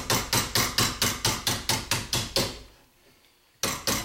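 A hammer bends the flange of a metal aircraft rear rib, striking in a quick, even rhythm of about a dozen loud, close blows, then pausing briefly before one more strike.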